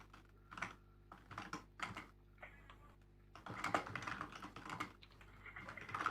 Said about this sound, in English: let me type it as soft as possible on my terrible keyboard